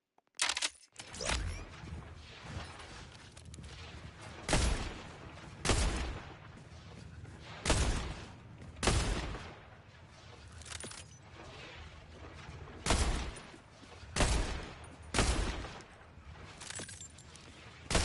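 Sniper rifle shots from Borderlands 4, roughly a dozen sharp, loud cracks spaced a second or two apart, each with a short ringing tail over a low game backdrop.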